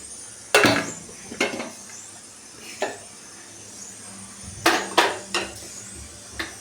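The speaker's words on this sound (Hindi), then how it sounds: "बस भुट्टे को इस तरीके से डाल के और हमें चलाना है।" Corn cobs are dry-roasted and turned in an iron kadhai, with several sharp clanks and knocks spaced out over a few seconds and a low sizzle in between, heard up close.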